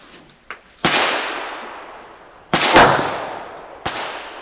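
Three sharp .45 ACP pistol shots at an outdoor range, each a loud crack with a short echoing decay, irregularly spaced over a few seconds, with a couple of faint clicks between them.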